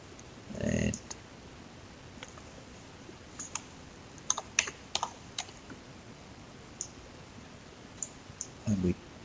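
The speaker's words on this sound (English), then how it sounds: "we type in all the relevant information, get rid of all that." Flight plan details are typed on a computer keyboard in scattered, close clicks and short key runs, with brief louder thumps near the start and end.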